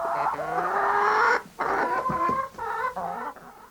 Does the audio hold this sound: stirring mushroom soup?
no